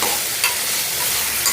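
A spoon stirs brinjal and moong dal curry in a hot pan, giving a short burst of loud sizzling with a scrape or two under it.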